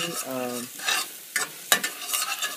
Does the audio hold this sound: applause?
no